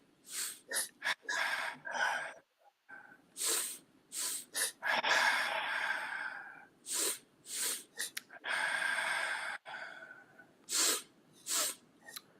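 During a breathing exercise, someone takes repeated short sniffs in through the nose followed by longer exhaled sighs, a close, clear rhythmic pattern of paired inhales and breaths out with no talking.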